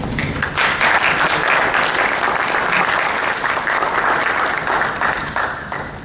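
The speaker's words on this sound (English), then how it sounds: "let's give them a quick round of applause." A room full of attendees at a health information exchange meeting gives a round of applause, loud, dense clapping from many hands held steady for several seconds, then thinning slightly at the end.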